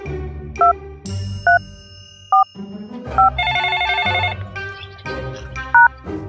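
A telephone rings for an incoming call in repeated short double-tone bursts, clear and close, over a background of music with a melodic tune in the middle.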